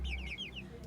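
Backyard chickens and a rooster cluck softly nearby, a short run of rising squawky calls over a low hum, faint and brief.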